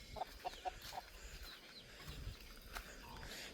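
Chickens cluck in a short burst of quick, repeated notes at a rural village site, then fade into steady outdoor background noise.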